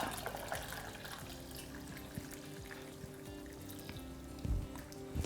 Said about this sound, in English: And then add my boiling water all the way to the top.